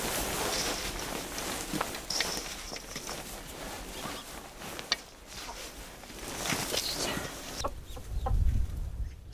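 Chickens cluck in a mountain-village coop in winter, soft scattered clucks mixed with rustling and footsteps close by, ending in a low muffled thump.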